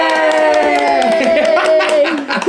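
A baby boy claps his small hands, soft taps sounding over a steady, tonal background of voice or music.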